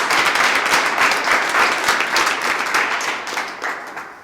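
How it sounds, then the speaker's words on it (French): Dense, sustained applause from an audience at a presidential visit to a training camp in Thiès, Senegal, steady and full throughout, tapering slightly toward the end. "Applaudissez."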